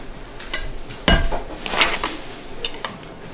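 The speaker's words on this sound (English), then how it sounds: "Whisk in 40 grams of room temperature butter until smooth" Room-temperature butter is whisked into macaron mixture in a bowl, producing close, uneven clinks and scrapes against the bowl with one sharper knock partway through.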